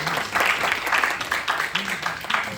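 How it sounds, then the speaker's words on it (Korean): Dense, steady applause from an audience at a university IoT device academic presentation, a continuous wash of many hands clapping at moderate loudness throughout. "다시 한번 큰 박수 부탁드리겠습니다"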